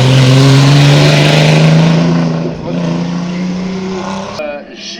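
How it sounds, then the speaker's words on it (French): A red and white Formula Renault single-seater race car pulls away at a hill climb, its engine revving hard through a loud, rising, buzzing note for several seconds before fading, with a voice talking over it. "la monoplace rouge et blanche qu'on vient de voir partir"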